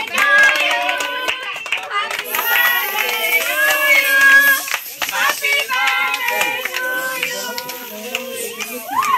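Hands clapping at a children's birthday celebration, a steady rhythm of claps mixed with children's singing voices and chatter, close and lively throughout.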